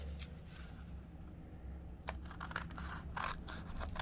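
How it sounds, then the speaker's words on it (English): Scissors snip through stapled paper in a few short crisp cuts, close and fairly quiet, over a low steady hum. "and then use your scissors."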